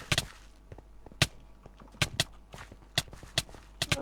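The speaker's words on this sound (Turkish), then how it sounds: "bir de eşeğe bak" Donkey hooves in a Minecraft-style game on a CraftRise server: sharp, irregular clip-clop thuds spaced through the stretch with no talk, some louder and closer, others fainter.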